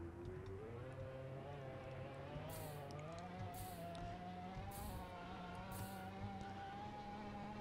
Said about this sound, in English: this freaking Lamborghini is going too fast